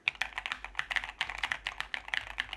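Rapid typing on a NuPhy mechanical keyboard, a dense run of crisp, clacky keystrokes at an uneven quick pace, close but fairly soft, with no talking.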